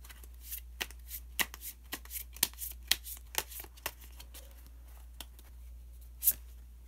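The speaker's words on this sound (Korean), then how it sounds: "그러면 마지막으로 히든 카드 한 장을 더 뽑아 보도록 하겠습니다." Tarot cards being shuffled and drawn from the deck, a run of crisp, close riffling snaps and soft flicks in quick irregular bursts, then a few sparse taps and one last sharper slap, with no talking.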